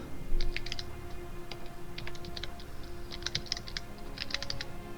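Keys tapped on a computer keyboard in short, quick bursts with brief pauses, close and fairly quiet, over a low steady room hum.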